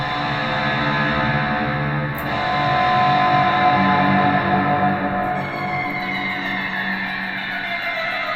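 Electric guitar run through only a delay effect, sustained distorted notes smearing into repeating echoes that blur the playing, loud and steady throughout with no talking.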